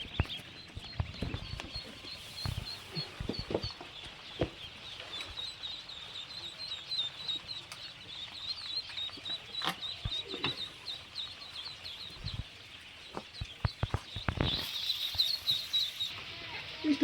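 Chicks at a poultry farm keep up dense, high-pitched peeping throughout, with scattered clucks and knocks, plus brief talk in the background.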